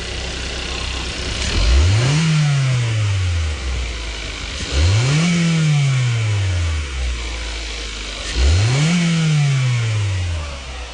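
A car engine is revved to about 4000 rpm three times in a row during an exhaust back-pressure check for a worn catalytic converter, each rev climbing, holding briefly and falling back, loud and close with no talk.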